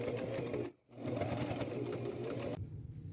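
Sewing machine running a medium zigzag stitch to attach heart appliques onto old denim jeans, a steady close whirring drone that pauses briefly, then resumes and stops again near the end.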